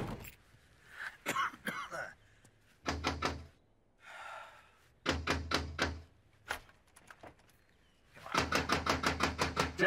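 Knocking on a door in a Breaking Bad scene: several bursts of rapid, hard raps, close and loud, separated by short pauses, the last burst the longest.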